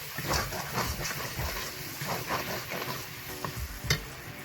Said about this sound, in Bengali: আরও ভালো করে মশলা কষিয়ে নেব